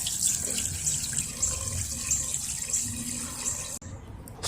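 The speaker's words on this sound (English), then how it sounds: "I'm gonna run the hose through that hose." Water from a garden hose rushes steadily through the hose of a Shark vacuum cleaner as it is rinsed clean, a continuous splashing flow that cuts off abruptly near the end.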